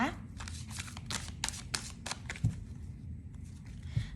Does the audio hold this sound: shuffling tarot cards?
yes